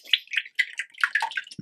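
Liquid ice cream mix is poured into a soft ice cream machine, a short run of splashy, bubbling bursts of liquid close by, ending in a soft low thud.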